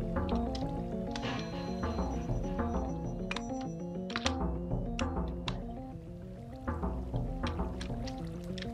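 Water dripping and flowing from placed blocks in Minecraft, a steady soft liquid trickle with scattered drip ticks, running under continuous melodic background music.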